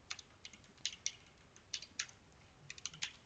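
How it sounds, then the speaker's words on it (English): Computer keyboard keys clacking as router configuration commands are entered in a networking lab, a string of quick irregular taps in small bursts, close and fairly quiet, with no voices. "Even though I'm typing the no shutdown command, it is not taking effect"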